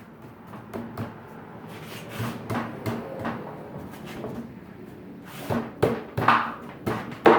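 A wooden farmhouse table board slides into place with a series of soft knocks and thumps, building to a few louder bumps near the end, close and alone without speech.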